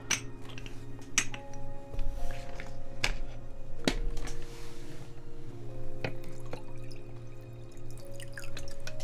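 Water is fetched in a kitchen, with clinks of glassware and dishes, a few sharp taps and soft drips spread through a low background hum.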